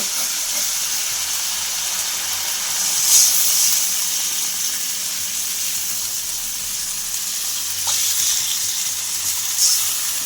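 Water poured into a pan of barramundi fish cooking in kasundi mustard sauce, a steady loud sizzle and hiss of steam throughout, swelling briefly twice as liquid hits the hot pan.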